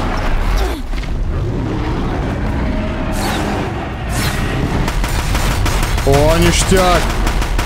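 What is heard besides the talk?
gunfire from a weapon in video game Horizon Zero Dawn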